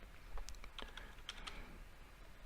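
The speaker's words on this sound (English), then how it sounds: "So you can type in countries here" Typing on a computer keyboard to enter country names into a website, a quick run of close, crisp key clicks in irregular bursts over a faint room hiss, with no voices.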